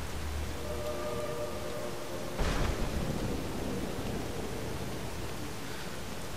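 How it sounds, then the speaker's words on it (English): Lightning strikes from the Storm Call shout in Skyrim land in empty ground near a mountain valley, heard as one sharp crackling thunder crack partway through over a steady storm-like wash of wind and noise. "Your lightning is just hitting random spots because there's no enemies here."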